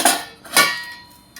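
A utensil scrapes through a food mixture with crushed peanut powder in a pan, making two loud metallic scraping strokes close by with a fainter clink at the end.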